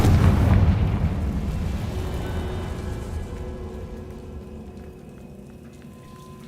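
A Confringo spell in Hogwarts Legacy bursts with a heavy, booming explosion that opens loud and then rumbles away slowly over several seconds.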